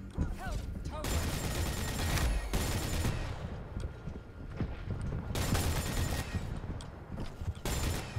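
Rapid bursts of weapon fire in the arena shooter Quake Champions, loud staccato volleys broken by short gaps, with game effects and a voice talking underneath.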